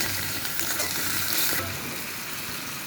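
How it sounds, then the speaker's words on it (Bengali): Spices sauté in a pan for a chicken curry, giving a steady soft sizzle with faint stirring scrapes throughout, quiet and close with no talking. "মশলা কষানো হচ্ছে"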